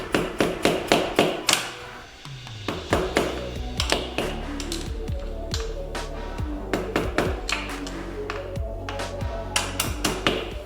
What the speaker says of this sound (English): I'll gently tap on the screwdriver all the way around the seal so it goes in evenly around the shaft